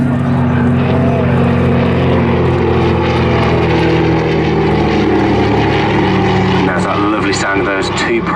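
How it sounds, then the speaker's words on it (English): Twin Pratt & Whitney piston engines of a Dakota propeller aircraft drone steadily in flight at an airshow display, a loud continuous hum heard under a commentator's voice throughout. "Two Pratt & Whitney engines of our Dakota today"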